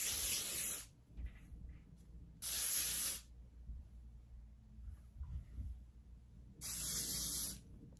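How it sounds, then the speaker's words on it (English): Hair spray misted lightly over wig curls in three short hissing bursts, each under a second, close and crisp with quiet pauses between them. "I'm gonna go in and lightly spray this just so the curls won't fall"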